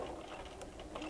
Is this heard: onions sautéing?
no